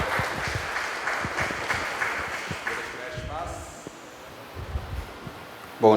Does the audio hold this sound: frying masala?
no